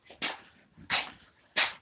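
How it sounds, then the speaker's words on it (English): Dogs bark out in the open while a bobcat is skinned, three short separate barks spaced about two-thirds of a second apart, faint and at a distance, with no talk over them. "dogs out there barking, making a noise"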